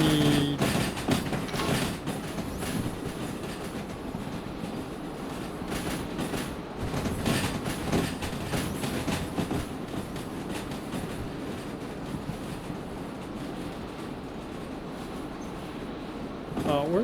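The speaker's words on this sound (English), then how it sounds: "My train went way off down there." Train from the Derail Valley video game rolls along rails with a steady rumble and faint clickety-clack throughout, while people talk over it.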